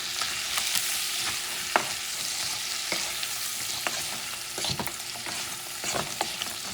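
Bread and ham stirred around in a sizzling frying pan for a Spanish ham and egg soup, a steady close fry with repeated scraping and clinking strokes of the utensil through the food.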